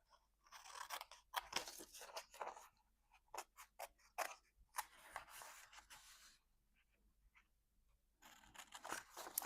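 Scissors cutting out a paper koala from a collaged page make close, crisp snips and crunches in irregular clusters, separated by quiet pauses.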